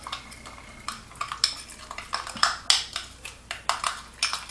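Brown sugar rub paste for pork chops being stirred in a bowl, a run of soft scraping and clinking strokes repeating roughly every half second, close and fairly quiet with no talk.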